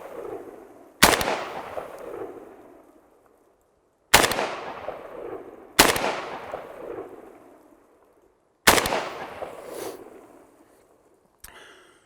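Four sharp, loud gunshots from a Century Arms N-PAP AK rifle, spaced a couple of seconds apart, each with a long decaying outdoor echo, plus a fainter click at the end.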